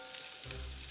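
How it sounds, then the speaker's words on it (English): Pizza frying in a covered pan at medium heat gives a steady, quiet sizzle and crackle, with a low rumble entering partway through. "It's sizzling too much."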